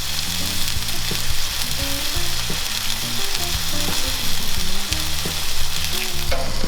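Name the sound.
marinated salmon sizzling on a BBQ grill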